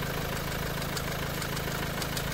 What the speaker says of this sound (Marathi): आपण इंजिन स्टार्ट केलेलं आहे.